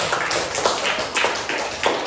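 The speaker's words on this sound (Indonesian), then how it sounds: "tepuk tangan dulu untuk kelompok 4 yang sudah tampil" A classroom audience gives a brief round of applause for a student group that has just finished presenting, with scattered, uneven claps going steadily for a couple of seconds.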